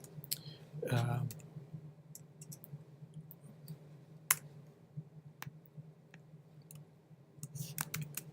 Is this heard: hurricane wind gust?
no